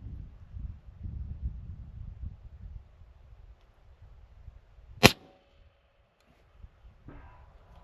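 A single sharp gunshot from a short 16-inch-barrel .308 rifle cracks out once midway, loud against otherwise quiet outdoor air with light wind noise, followed by a faint trailing echo.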